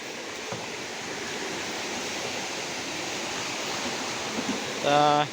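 Fast, forceful river water rushes steadily and loudly close by in the Konkan countryside, a dense unbroken roar with a brief tonal sound near the end.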